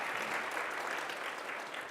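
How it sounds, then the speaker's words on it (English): Steady applause from a conference audience at a women in data science event, dense and continuous clapping throughout at moderate loudness with no speech over it. "I'd like to give you a round of applause."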